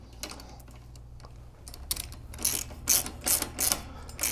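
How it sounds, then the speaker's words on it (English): A ratchet tightens a bolt on Outback Motortek lower crash bars on a motorcycle. The clicking starts soft and sparse, then grows into loud, rapid bursts of ratcheting close by, with no talk. "I'm going to tighten this up a little bit, but not all the way yet."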